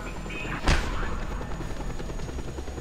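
Helicopter rotor whir in a video game, a steady loud drone running throughout with a sharp boom-like hit near the start.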